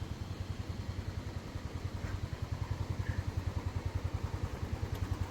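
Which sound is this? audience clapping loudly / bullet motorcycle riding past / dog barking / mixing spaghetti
bullet motorcycle riding past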